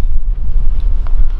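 Strong wind buffets the microphone in a steady low roar out on the water while fishing for carp, tench and sturgeon from a boat in Denmark, with no talking.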